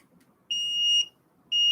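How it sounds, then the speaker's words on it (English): A UnifyDrive UT2 drive gives two clear, steady electronic beeps, each about half a second long with a short gap between them, close by in an otherwise quiet room. "2 beeps, you hear that?"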